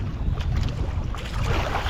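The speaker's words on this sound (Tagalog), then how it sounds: "Bangka." Steady rumbling boat engine and water wash with wind buffeting the microphone, continuous and close.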